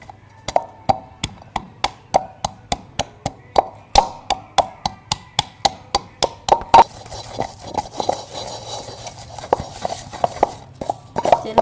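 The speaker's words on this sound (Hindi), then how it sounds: "चलो बादाम हमने पीस लिए।" Almonds being ground for a homemade desi sardai drink, with a steady train of sharp, evenly spaced knocks that later give way to a rougher, denser scraping grind, close by with no talking.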